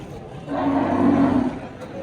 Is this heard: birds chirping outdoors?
no